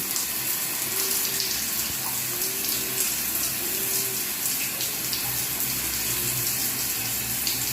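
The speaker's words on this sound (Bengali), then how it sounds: "মেঘি স্নান করাতে বসিয়েছি" Water running steadily from a tap while a child is bathed, a continuous close gush and splash with faint irregular drips and knocks underneath, no voices.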